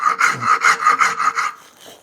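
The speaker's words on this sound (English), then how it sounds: "this is just a medium grained rasp," A medium-grained flat rasp files a wooden Greene & Greene style ribbon drawer pull in about seven even, rhythmic scraping strokes, close and clear, the last one fading softer.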